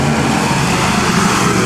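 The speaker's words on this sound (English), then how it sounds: "Hear that supercharger?" Supercharged vintage OM car at the Mille Miglia, its engine roaring loud and close in a short, dense burst with a coarse, throbbing texture.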